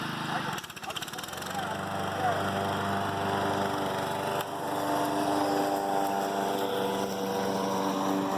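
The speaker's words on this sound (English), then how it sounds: "Turn off the lawnmower." A running lawn mower hums steadily and close by throughout, a constant engine drone with people talking over it.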